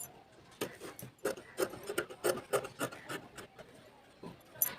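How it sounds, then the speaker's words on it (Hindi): Scissors cutting fabric for a blouse back neck, heard as a run of close, soft rasping snips and rubbing strokes in an irregular rhythm, with no talking. "इस तरह से हम गले को कट कर देंगे।"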